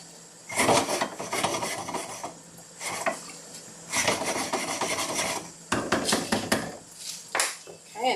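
Zucchini and potatoes stirred in a pan with about half a cup of sauce, giving repeated scraping, rasping strokes of a utensil against the pan in several bursts with short pauses, fairly close.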